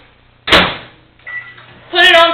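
A microwave oven door thumps open or shut with a solid clunk, a short rattle follows, and the oven starts with a steady electric hum that carries on to the end.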